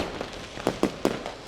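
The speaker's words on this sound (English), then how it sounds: "Celebrations. My own fireworks. Milestone achieved." Fireworks celebrating a milestone in the Mars colony game Surviving Mars: a series of sharp crackling bursts, about five pops spaced roughly a fifth of a second apart, loud and close, with no talking.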